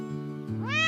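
A single cat meow, close and clear, rising in pitch toward the end; no talking over it.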